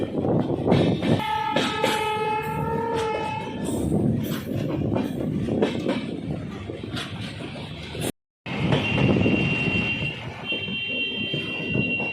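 Udaipur City Express train, hauled by a WAP7 electric locomotive, departing the small Rana Pratap Nagar railway station: loud continuous rumble and clatter of moving carriages with a sustained horn tone, recorded close from on board, briefly cutting out.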